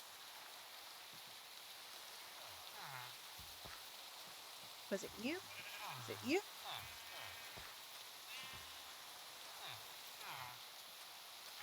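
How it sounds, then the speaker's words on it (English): Steady hiss of rain falling in Minecraft, a constant soft wash running throughout, with someone talking over it in short bursts. "I really wished this rain would stop."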